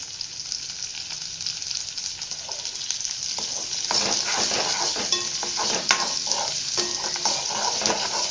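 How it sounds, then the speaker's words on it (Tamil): Onions sauté in hot oil in a pan for a Pollachi-style mutton curry, a steady close sizzle that grows louder partway through, broken by occasional spoon scrapes and clinks. "எண்ணெய் காஞ்சிருச்சு நான் வெங்காயம் போட்டு வணக்க போகிறேன்"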